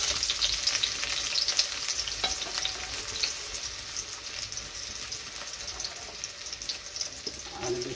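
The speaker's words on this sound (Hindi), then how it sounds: "तेल गरम हो गया है, तो अभी मैं प्याज को डालूंगा।" Onion dropped into hot oil for an upma fries with a steady, close crackling sizzle and occasional stirring clicks, continuing without a break.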